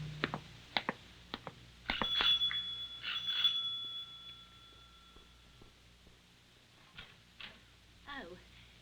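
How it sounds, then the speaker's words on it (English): A bright front doorbell rings twice, its tone lingering for a few seconds, among nearby knocks and footsteps in a quiet room. "the front doorbell rang"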